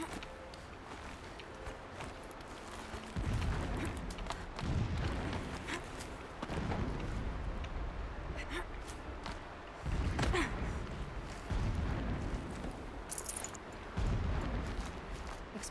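Distant explosions from the video game Horizon Zero Dawn roll in as a series of low, muffled booms spaced a couple of seconds apart, each swelling and fading over a steady ambient bed, with no talk over them.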